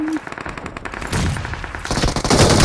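Rapid automatic gunfire from the PUBG battle royale video game, dense overlapping bursts of loud shots that continue without letup for nearly three seconds, with some game sounds mixed in.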